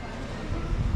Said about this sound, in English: world's shortest railroad. Cable car. Funicular.